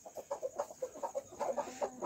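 An Aseel hen, about two to two and a half years old, clucks in a quick run of short, close, mid-pitched calls with a steady uneven rhythm, heard alone with no talking.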